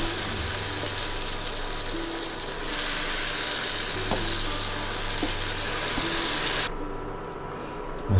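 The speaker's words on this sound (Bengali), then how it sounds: "এবার একটু ম্যারিনেট করা মাংসটা দিয়ে দিই," Marinated chicken frying in a pan, a loud steady sizzle that carries on throughout, with faint clinks of stirring, then a sudden drop in hiss near the end.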